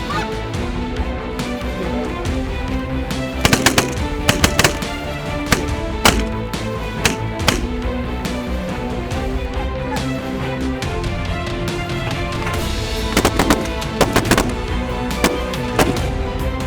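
Shots crack out in scattered bursts during a waterfowl hunt in Saskatchewan, loud and close over a steady outdoor din, with geese honking around them.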